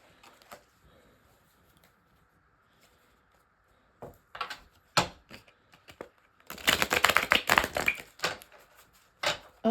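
Tarot cards are shuffled in scattered soft riffles and taps that grow into a dense burst of card flutter toward the end, close by and with no talk.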